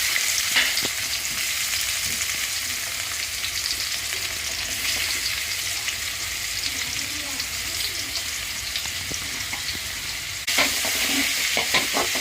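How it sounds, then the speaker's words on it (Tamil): Chopped onions sizzle in hot oil in a pan while vegetable Maggi noodles are cooked at home. The frying hiss is loud and continuous with occasional stirring clinks, and a brief louder burst comes near the end. "இப்போ வெங்காயத்தை போட்டுக்கலாம்."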